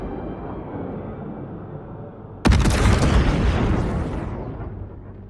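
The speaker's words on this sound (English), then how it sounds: "Lovely explosion." A ship blows up in the space strategy game Homeworld 3: a quiet hum breaks into a sudden loud blast that rumbles and crackles, then slowly fades out.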